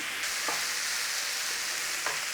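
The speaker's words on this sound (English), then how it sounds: "Got a nice little sizzle going on there, look." Chopped vegetables sizzling in a single pan for a lentil bolognese, a steady bright hiss of frying with a couple of brief stirring scrapes, close and continuous without speech.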